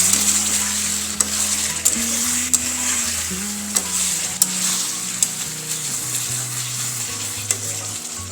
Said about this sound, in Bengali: গ্যাসের ফ্লেম কমিয়ে কিছুক্ষণ ধরে রান্নাটি করে নিচ্ছি।